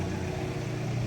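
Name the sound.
loud car passing by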